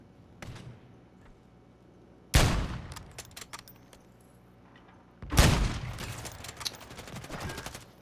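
Suppressed MP5 submachine gun fire in a first-person shooter video game, heard as two loud bursts of rapid muffled shots with scattered quieter clicks and clatter between them.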